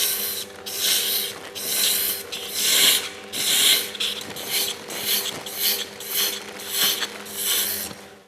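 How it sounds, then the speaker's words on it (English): A flat-ended tool flattens grooves on a workpiece spinning true on a wood lathe, giving a loud, rhythmic scraping rasp that swells and fades in regular passes over a steady motor hum. "I'm just going to flatten out those grooves using the flat-ended tool."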